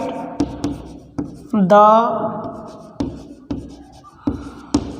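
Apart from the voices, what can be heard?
writing with a pen on paper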